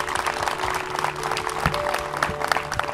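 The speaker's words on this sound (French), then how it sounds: "J'aimerais qu'on fasse une belle main d'applaudissements pour tous les participants" Crowd applause for participants and volunteers at a youth Relay for Life event at a college, dense continuous clapping with scattered louder claps throughout.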